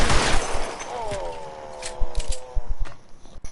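Gunfire from the video game L.A. Noire, a crisp crack followed by a scatter of sharp shots and impacts over a few seconds, with a brief voice-like tone in the middle.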